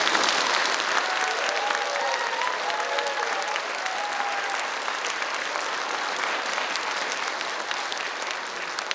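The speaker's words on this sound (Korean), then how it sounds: "오늘 많은 수고를 해주신 모든 스태프진들에게도 감사의 박수 한번 부탁드립니다." A concert hall audience claps in thanks for the staff after a performance, a long even roar of many hands that holds steady for several seconds with faint cheers on top.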